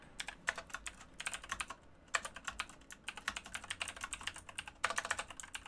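Rapid typing on a computer keyboard, with steady bursts of close, crisp key clicks separated by short pauses, each run of strokes quick and even, heard alone with no speech over it and nothing else in the background.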